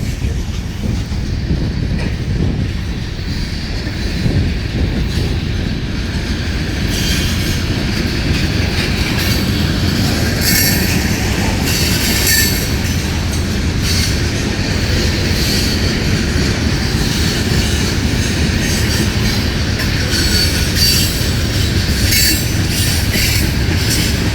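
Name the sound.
Norfolk Southern freight train with DPU locomotives passing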